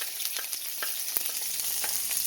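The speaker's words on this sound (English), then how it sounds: "So here I have 1 tablespoon of virgin olive oil. So I'm going to add my scallion" Scallions sizzling in virgin olive oil in a pan, a close, steady frying hiss with soft stirring clicks over a short stretch.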